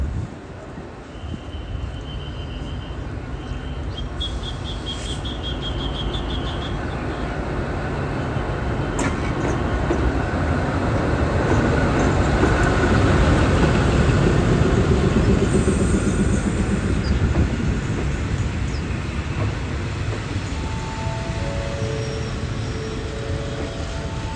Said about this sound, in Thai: เข้าสู่ชุมทางบางซื่อในชานชลาทางที่ 2 ครับ วันนี้ขบวน 261ใช้เป็นรถจักรอัลสตอม